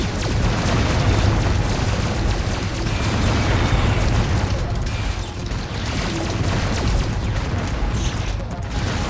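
Loud, dense explosive rumble and crackle from a robot being destroyed in the video game Descent 2, a continuous heavy burst filling the whole stretch with no pause.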